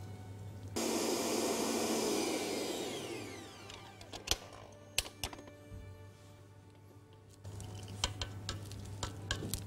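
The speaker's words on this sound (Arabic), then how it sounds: "هنحط الزبدة ونضربها شوية لحد ما تبقى زي الكريمة كده خالص" An electric mixer beats butter until creamy for frosting, whirring steadily for a couple of seconds and then running lower. Sharp clicks and taps of the bowl and beaters cut in near the end. Nobody speaks.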